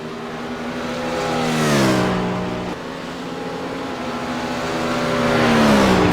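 A race car engine in an endurance race revs up and down in two smooth swells, close and loud, with a gear shift and lifting off throttle between surges.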